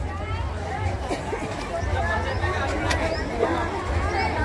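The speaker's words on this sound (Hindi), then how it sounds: "आप लोग देख पा रहे होंगे कि यहाँ बहुत ही भीड़ लगी हुई है" A dense crowd murmurs and chatters continuously at the Bhagoria tribal festival, a close, busy babble of many voices with faint footsteps mixed in.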